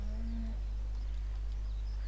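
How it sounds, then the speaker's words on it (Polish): A cow in Farming Simulator 17 gives a single short, low moo at the start over a steady farm hum, then only quiet ambient noise remains. "Także krówki sobie chodzą"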